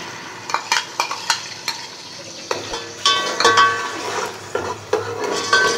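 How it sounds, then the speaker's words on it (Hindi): Blended onion paste fries in a pan, giving a soft steady sizzle broken by repeated clinks and scrapes of a spoon stirring against the metal. No voices are heard. "प्याज थोड़ी सी फ्राई हो गई है"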